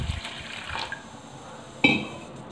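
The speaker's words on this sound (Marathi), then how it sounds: "यामध्ये आपण अंदाजानुसार पाणी घालायचं आहे" Water is poured into a pressure cooker holding washed dal and rice, a short, close burst of splashing and trickling with a sharp splash near the end, no voices present.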